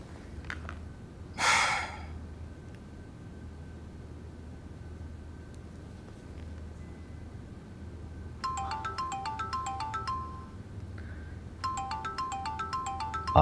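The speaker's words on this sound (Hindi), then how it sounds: "आसमा का फोन आ रहा है।" Mobile phone ringtone of an incoming call, a bright repeating electronic melody in two bursts separated by a short pause, fairly close and moderately loud over quiet room tone, preceded by a soft breath.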